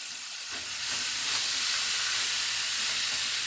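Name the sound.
browning chuck and ground beef in hot oil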